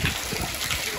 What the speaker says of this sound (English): it's like splashing on me